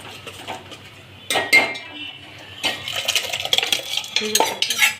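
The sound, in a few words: boiled dal added to tempering and stirred in pot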